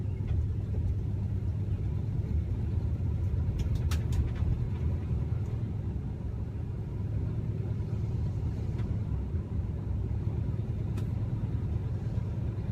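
Steady low engine rumble of a car on the move, continuous and fairly loud, with a few brief higher clicks partway through.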